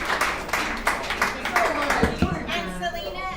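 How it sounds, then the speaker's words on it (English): An audience at an alumni meeting clapping for a speaker: a brief burst of scattered applause, moderately loud and close, fading out with murmuring voices toward the end. "Let's give her a round of applause."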